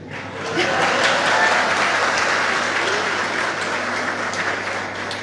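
A large audience claps steadily at a live coaching event in Navsari, the dense applause swelling within the first second, holding full and close for several seconds, then tapering slightly.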